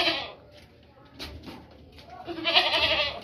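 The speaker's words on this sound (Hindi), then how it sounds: "ये देखे अभी बकरी" A plump, healthy pregnant goat at a livestock sale gives short, close bleats, one at the start and a louder one near the end, with faint background voices and bird calls.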